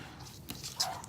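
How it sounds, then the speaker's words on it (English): Pet dogs barking in the background somewhere in the house, a couple of short, muffled woofs and yips at moderate distance, standing alone without speech. "You can hear my dogs barking"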